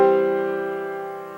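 A sustained piano chord from a Bach piece, played with unbalanced voicing, rings alone and close, with no new notes, and fades slowly over a second and a half.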